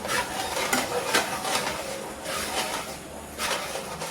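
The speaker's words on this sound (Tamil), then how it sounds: "அடி பிடிக்காமல் இந்த மாதிரி கிண்டி விட்டுட்டே இருக்கணும்" A spoon stirs thickening milk in a pan, scraping the bottom to keep it from catching, in repeated rough strokes with faint bubbling, close by and without talk.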